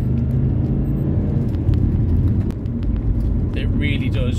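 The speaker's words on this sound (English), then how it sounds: "The sound from that twin turbo." Continuous low engine drone from a moving Subaru Legacy GTB E-Tune with a twin-turbo engine, loud and even throughout, with brief faint higher noises near the end.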